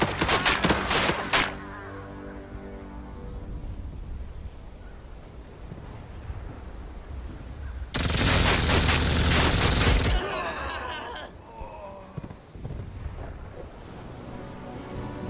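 Machine gun fire in the turn-based World War II tactics game Headquarters World War II: a quick rattling burst at the start, then a louder, denser sustained burst later, set against a steady ambient background.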